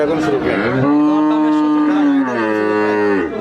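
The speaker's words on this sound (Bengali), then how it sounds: "চাইলে দেখে শুনে দেখে শুনে নিতে পারবে বিগ সাইজের একটি গাভি" A large cow at a cattle market gives one long, loud, close moo that rises, holds steady, then bends down at the end, with no other sound.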